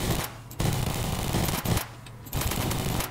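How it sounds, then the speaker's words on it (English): A minigun fires in long sustained bursts in a video game, a dense roaring rattle broken by brief pauses, loud and close. "I think it's better if I just use the minigun for far distances."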